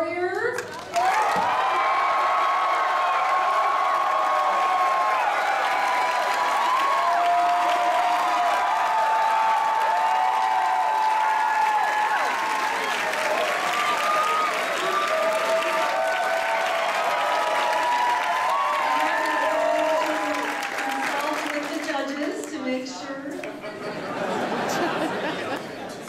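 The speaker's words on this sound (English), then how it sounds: "We're gonna do one final applause." Costume contest audience at a gaming convention applauding for a long stretch, dense clapping mixed with crowd chatter and a few cheers, with a voice talking over it near the end.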